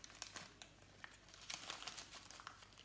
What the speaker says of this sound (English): take a piece of greaseproof paper and bring it over